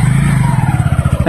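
Motorcycle engine revving up close, a loud steady low throb with rapid regular pulses that rise slightly near the end, with no talking over it.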